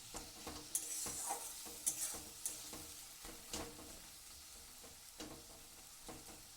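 Tomatoes with ground coriander, cumin paste and turmeric are stirred in a frying pan for an egg and cauliflower curry: repeated scraping strokes of a spatula over a soft, steady sizzle, close up, with no talking.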